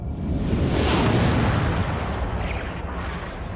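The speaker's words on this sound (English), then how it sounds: "there was the mother of all explosions, the Big Bang" A huge Big Bang explosion effect roars as a dense, rumbling blast that swells early, then rolls on as a sustained low thunder with no voices.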